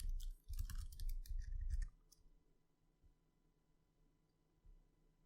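Computer keys are tapped to enter a password, a quick cluster of sharp, close clicks lasting under two seconds, then near silence with a faint click or two.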